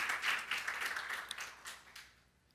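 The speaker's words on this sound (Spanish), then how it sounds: "Démosle un aplauso al Señor" A church congregation applauds in a burst of clapping that starts full and gradually thins out and fades over a couple of seconds.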